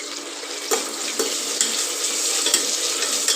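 Mushrooms and mint are stir-fried with reddened onion in a pan, loud continuous sizzling broken by several sharp stirring scrapes at irregular intervals, no voices.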